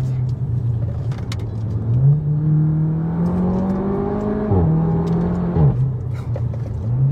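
A Seat León Cupra 2.0 with 350 hp in Stage 1 tune pulls hard in second gear, its engine note rising steadily and loud before a quick dip at the shift, a droning interior roar throughout.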